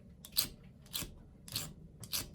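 Cheap pair of fabric scissors, freshly sharpened, snips four times at a steady rhythm, each close crisp cut ringing with a bright metallic edge against a quiet background.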